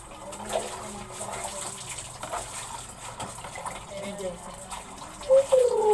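A household shower runs water in a steady, moderate hiss, with people talking close by over it and a sharper louder burst near the end.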